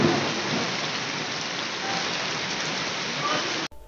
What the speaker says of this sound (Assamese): ধাৰাসাৰ বৰষুণ আহি আছে